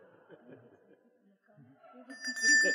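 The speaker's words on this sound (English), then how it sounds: "if they start to run over, I will ring this little bell." A small hand bell rung at a panel discussion gives bright, sustained metallic tones that ring out near and fairly loud after a stretch of quiet speech, and the tones overlap a voice.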